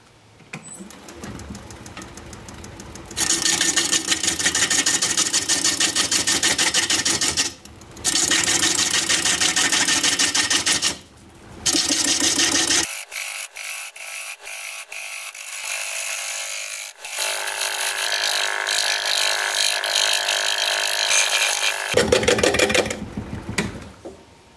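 A honeysuckle root spins on a wood lathe while a tool cuts its side, giving a loud, steady whirring and scraping in long stretches broken by short pauses, with no talking.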